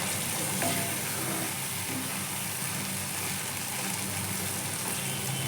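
Jackfruit and potato pieces fry in a pan for a vegetarian jackfruit curry, giving a continuous, even sizzle and crackle with no voices over it.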